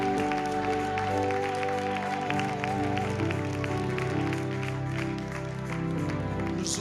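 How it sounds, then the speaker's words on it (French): A church congregation at a French-speaking worship service claps and cheers in praise, a steady crowd applause blended with sustained keyboard or organ music filling the hall. "Je vous appelle à acclamer le Seigneur."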